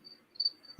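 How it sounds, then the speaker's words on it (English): Cricket chirping played from a soundboard, a few quick high-pitched trills pulsing over a quiet background, with a brief low thump near the end. "Crickets."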